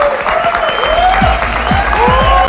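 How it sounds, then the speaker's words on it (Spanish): Studio audience of a Spanish-language talk show applauds loudly, a sustained, close wash of clapping with some tonal sounds running through it. "Vamos a recibir con un fuerte aplauso a la otra persona"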